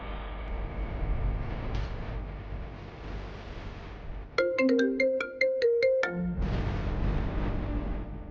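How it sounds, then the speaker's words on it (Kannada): A melodic electronic ringtone plays a short repeating tune for a couple of seconds, rising clearly above steady background noise. "ತಾರವ್ರು ಫೋನ್ ಮಾಡಿದಾರಲ್ಲ"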